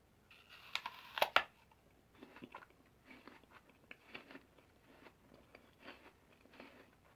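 A crisp apple is bitten with a couple of sharp, close crunches, followed by quieter, rhythmic chewing that carries on steadily.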